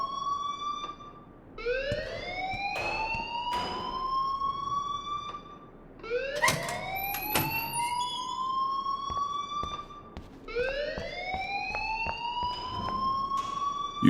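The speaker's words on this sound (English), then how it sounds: "please turn off that alarm since that's your job." A school fire alarm blaring in the video game Life is Strange, loud, rising whoop-like electronic tones repeating in three long sweeps with brief gaps between them, with no talking.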